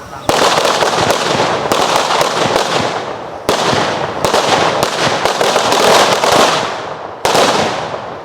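Large aerial fireworks burst one after another at night, loud crackling booms with several sharp onsets and long fizzing tails that fill the air.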